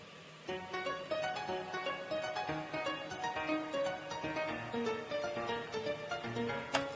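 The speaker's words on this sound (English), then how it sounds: "piano playing the arpeggio." A piano plays a flowing arpeggio on its own as part of a K-pop track, its notes rising and falling in a steady, continuous pattern at a moderate, even level.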